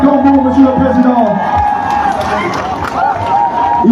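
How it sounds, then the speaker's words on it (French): A crowd at an outdoor school ceremony in Makokou cheers and shouts as a lycée group arrives, a dense, loud wash of voices and whoops close by without clear pauses. "Sous vos applaudissements, mesdames, messieurs"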